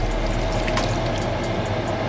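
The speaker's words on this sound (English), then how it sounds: "I'm gonna take the water and just pour it in there." Water pours steadily into a pot of browned chicken for curry chicken, a continuous close splashing rush with no talk over it.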